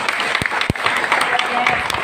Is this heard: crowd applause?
yes